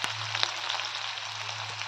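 Curry leaves and onion frying in a pan, a steady close hiss and sizzle with scattered small pops, alone over a low hum.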